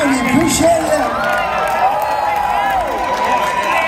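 A live rock concert crowd at Big Night Live in Boston roars and cheers continuously, a steady wash of voices and shouts with someone talking over it on the PA.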